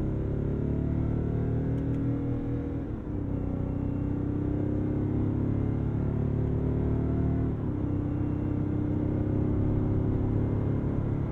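A 2022 Cadillac Escalade diesel accelerates in low gear, heard from inside as a steady, loud low-pitched engine drone that shifts slightly in pitch as it climbs, with no voices.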